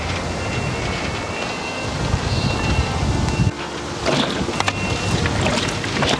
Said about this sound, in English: It's super windy out here today though.